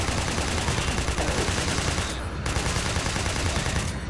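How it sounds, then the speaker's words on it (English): A TMP submachine gun fired in Resident Evil 4, dense rapid bursts of automatic gunfire crackling loudly and almost without pause, with two brief gaps in the shooting. "we should use the TMP for this"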